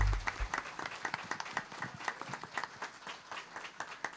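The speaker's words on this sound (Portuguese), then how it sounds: "uma salva de palmas para a Arquidiocese de Pelotas" Applause at a regional Catholic family pastoral congress in southern Brazil, honoring the Archdiocese of Pelotas: a steady wash of many hands clapping indoors after a brief low thump, continuing evenly for several seconds.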